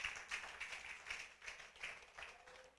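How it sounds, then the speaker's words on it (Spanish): A church congregation claps in steady rhythm, soft and somewhat distant, with regular bursts roughly every half second. "Dele palmas al Altísimo."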